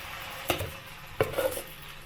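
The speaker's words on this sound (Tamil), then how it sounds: "குழி பணியாரக்கல்ல எண்ணெய் சேர்த்துட்டு நம்ம ரெடி பண்ண மாவை பணியாரமாக ஊற்றி எடுத்துக்கலாம்." Multigrain millet dosa batter is poured into an oiled five-metal kuzhi paniyaram pan in two short pours, each followed by a quick, close sizzle against a quiet kitchen background.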